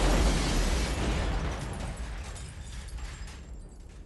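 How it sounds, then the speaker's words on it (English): A huge, booming car explosion in the film Goodfellas erupts at once, its deep roar slowly rumbling and fading away over a few seconds. "and then it goes boom, huge explosion."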